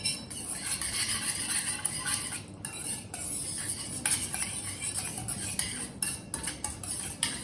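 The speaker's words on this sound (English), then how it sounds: "And whisk. Mix the whole thing nicely." A whisk beats a yoghurt mixture in a bowl, making a steady, close scraping and clinking against the bowl's sides that runs continuously with no pauses and no voices.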